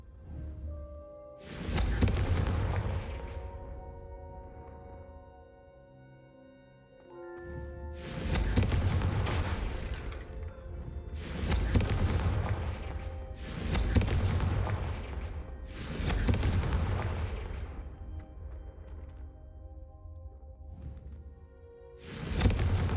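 Confringo fire spells in Hogwarts Legacy burst in a series of five or six loud, booming explosions, each a sharp blast that rumbles and fades over a couple of seconds, separated by brief quieter pauses.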